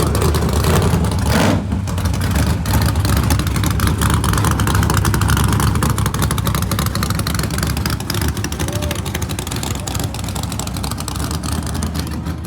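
A van fitted with a 2JZ engine drives fast, its loud, continuous engine roar and road rush filling the whole stretch without letup.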